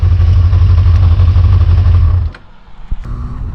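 A Yamaha XJ 600 motorcycle engine drones loudly at steady speed while riding on the road, then the revs drop suddenly to a quieter idle-like burble with a few small clicks.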